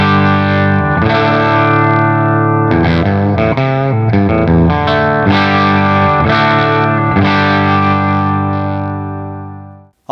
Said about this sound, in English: You can hear that bridge pickup is on the edge of breakup if I really dig into it here.